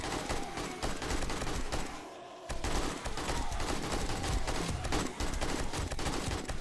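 Rapid bursts of gunfire in the zombie survival game 7 Days to Die, repeated shots and volleys loud and dense across the scene, with a brief lull in the middle before firing resumes.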